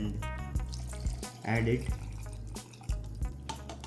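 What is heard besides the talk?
measured cup of water poured into blender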